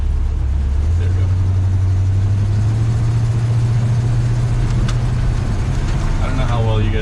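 An old Chevrolet Squarebody K10 pickup engine drones steadily while driving on slick snow, a loud low hum heard from inside the open cab, with a voice speaking over it.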